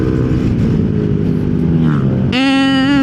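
A Yamaha Nmax Techmax scooter with a modified CVT and 1,000 rpm spring revs under throttle, its engine note droning loud and close before climbing sharply into a higher-pitched whine near the end.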